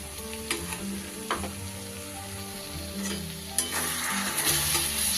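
Poppy seed and green chili paste frying in a pan for a turnip or kohlrabi curry with small fish. A steady sizzle is broken by a few sharp stirring clinks and scrapes, with soft music underneath.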